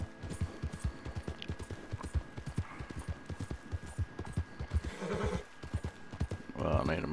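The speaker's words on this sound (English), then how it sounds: "Probably run this horse until it's dead." Horse hooves galloping in Red Dead Redemption 2, a fast steady rhythmic beat of close, loud hoofbeats with a neigh near the end, while someone talks over them.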